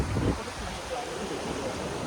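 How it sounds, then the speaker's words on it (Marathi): Heavy rain pours beside a swollen, flooded river, a steady broadband rush that sounds close and continuous, with a slightly louder gust-like swell at the start. "पाऊस पण जोरात येतोय"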